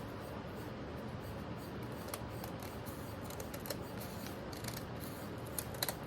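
Scissors snip through a stack of brown paper bags in a steady run of soft, crisp cuts, fairly quiet and close, with no talking.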